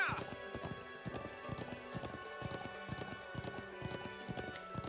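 A horse gallops in the video game Trails of Cold Steel 2, steady rhythmic clip-clop hoofbeats repeating quickly and evenly over background game music, with a brief whinny at the start.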